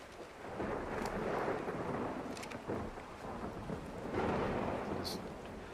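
Rain and thunder in a video game: a steady hiss of rainfall under a long, deep rolling rumble of thunder that swells and fades, with a couple of brief crackles, moderately loud and without speech.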